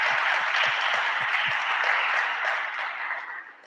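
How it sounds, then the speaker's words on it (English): A conference audience gives a round of applause to the lunchtime caterers, a dense, steady wash of clapping that holds strong for about three seconds and then starts to thin out, with a few low thumps near the start. "let's give them a round of applause"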